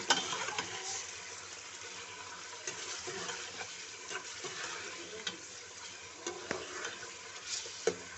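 Beef pieces frying with whole garam masala in hot oil for a beef badami qorma, a steady crackling sizzle with scattered spoon-stirring scrapes and pops, close and continuous without talk.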